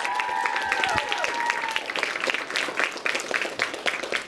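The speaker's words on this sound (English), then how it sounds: "Let's give him a big round of applause." Audience applause for a visiting mayor at a middle school food drive event, clapping rising after a brief ringing tone, a steady patter of hands carrying to the end.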